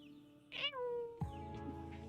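A human voice imitating a cat's meow, giving a drawn-out, falling mew followed by a second shorter one, close and fairly loud.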